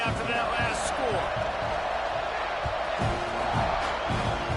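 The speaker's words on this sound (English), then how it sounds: "this crowd is buzzing after that last score" Stadium crowd in College Football 26 buzzing after a score, a steady dense roar held throughout, with a commentator talking over it and a few sharp thuds.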